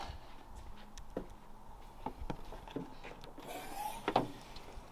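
The hood latch of a Porsche Cayenne with a 4.8 V8 is released: a few soft mechanical clicks and clunks, ending in a sharper pop near the end, in a quiet garage.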